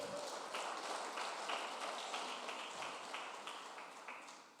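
A church congregation claps along steadily, a soft, even patter of many hands at some distance that thins slightly toward the end.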